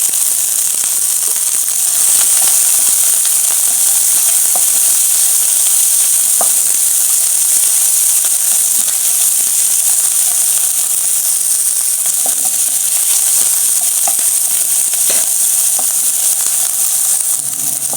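Chicken sizzles and fries steadily in a hot pan with onions and coriander stems, a loud continuous hiss with occasional small pops and crackles, no talking.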